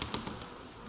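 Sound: bees buzzing at a hive during colony splitting

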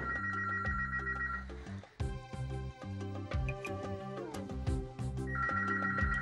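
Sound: doorbell ringing like a telephone

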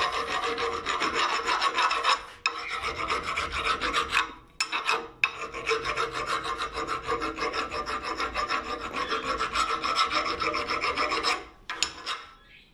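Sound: filing burrs off metal of brake disc skimming tool

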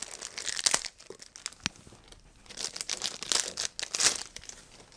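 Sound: unpacking headset packaging

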